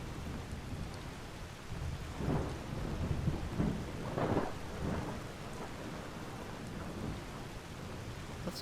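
A dark thunderstorm in Skyrim near Dustman's Cairn, steady rain hissing throughout with low rumbling thunder swelling twice in the middle, fairly loud and with no one speaking.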